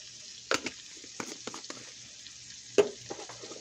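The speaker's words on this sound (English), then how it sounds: "when you fry the spices, it brings out all the flavor in them" Spices frying in a pan for pea soup: a faint steady sizzle with a few soft stirring clicks and scrapes scattered through, quiet and close, no voices.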